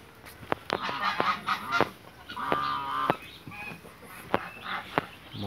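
Geese honking on a farm where they roam loose alongside guinea fowl and ducks, with several loud, close honks in bursts and a few sharper calls spread throughout.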